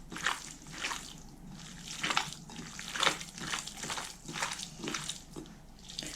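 Minced meat for cutlets being kneaded by hand, giving close, wet squelching and squishing in a slow repeated rhythm of about one press per second, fairly quiet, with no talking.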